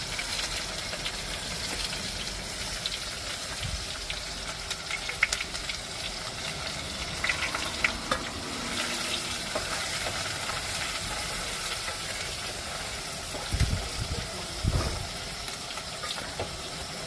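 Onion frying in a pan on a home stove, a steady broadband sizzle lasting throughout, with occasional stirring knocks and clatters standing out from the constant hiss.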